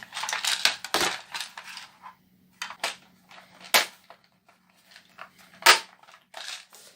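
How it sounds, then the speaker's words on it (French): A cardboard craft box being clipped shut at the top, giving sharp snapping clicks and small rustles that come at irregular intervals, close and fairly quiet, with no voices. "Donc on vient clipser la boîte en haut"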